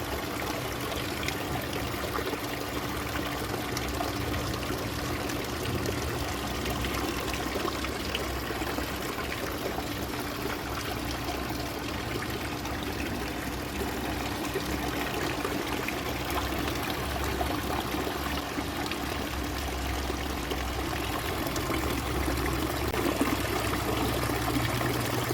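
Pump-driven water fountain jets run steadily, a constant splashing, trickling rush of water that holds at an even level throughout with no voices.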